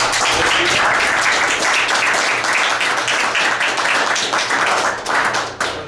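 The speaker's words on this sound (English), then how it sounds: "Round of applause." An audience in a training briefing room claps for several seconds, dense and even applause that tapers slightly at the end.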